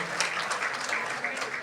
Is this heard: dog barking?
no